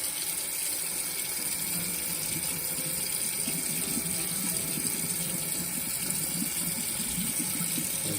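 Cold tap water runs steadily over fresh peppers while the last seeds are rinsed out during chile relleno prep, a continuous close splashing stream with no talking.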